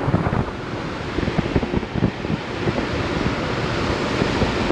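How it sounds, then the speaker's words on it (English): Strong wind buffeting the microphone while riding a Roadrunner Tronic electric skateboard at speed, a continuous loud roaring rush with gusty low-end thumps and no voices. "the wind is already trying to take my face off"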